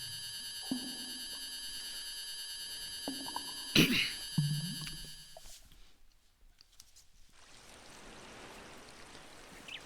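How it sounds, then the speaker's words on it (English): Lake water rising in the video game The Legend of Zelda: Ocarina of Time: chiming electronic tones and brief effects give way to a steady, broad rushing swell of water that fills the last few seconds. "Now you're gonna watch as the water of the lake rises again."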